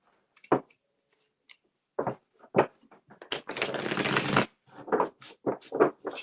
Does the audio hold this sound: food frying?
no